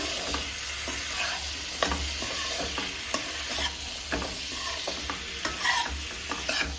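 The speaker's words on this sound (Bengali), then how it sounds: "এটা এক মিনিট কষিয়ে নেব ভালো করে" Spiced onion greens and tomato frying in a rohu fish curry masala, a steady close sizzle broken by repeated scraping strokes of a stirring spoon.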